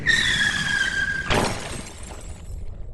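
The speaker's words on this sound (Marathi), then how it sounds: "तसे गाडी रस्त्याकडेच्या झाडाला जाऊन जोरात आदळली." A car skids with a long, high tyre squeal, then slams hard into a roadside tree on a mountain ghat road. The crash is a loud, sharp impact with a short shattering tail that fades into quiet.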